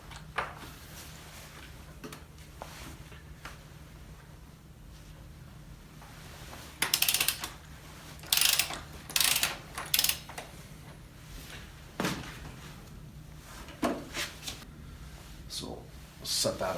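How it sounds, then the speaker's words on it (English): A wrench works the 22 mm rear axle nut on a 2021 Husqvarna TE 300i dirt bike on a stand, with sparse metallic clicks and clanks and bursts of handling noise, while someone talks throughout. "the axle nut's a 22. So the first thing we're going to do is just take that off."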